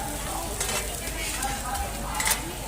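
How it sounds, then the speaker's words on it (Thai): Pad thai and fried mussel pancake sizzle steadily in two woks at a temple merit-making fair, with continuous close frying hiss and occasional scraping of utensils against metal. "ผัดไทยหอยทอด สองกระทะครับฝั่งน้น ก็ทอดฝั่งนี้ก็ทอด"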